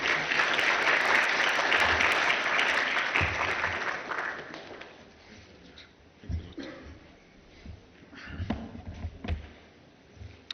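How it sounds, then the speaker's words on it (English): A conference forum audience gives a round of applause welcoming the Vice President, dense clapping for about four seconds that thins into scattered claps and room noise. "please join me with a round of applause in welcoming Vice President"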